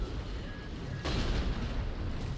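Missiles launched in the Armored Core 6 video game during a PvP match, a dense rumbling barrage with a sharp burst partway through, booming continuously at moderate loudness.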